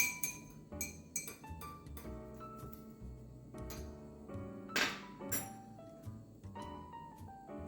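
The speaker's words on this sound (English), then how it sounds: "Give this a stir." A spoon clinks against a glass or mug while stirring coffee mixed with Nut Pod dairy-free creamer, giving a series of close, bright taps and rings in an irregular rhythm with no talking.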